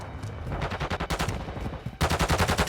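Rapid automatic M4 rifle fire in Modern Warfare II, close, loud bursts of evenly spaced shots with a short break before a final burst.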